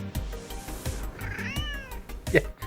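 A cat meows with a rising, drawn-out call, loud and close, over a busy background of other sounds and a voice.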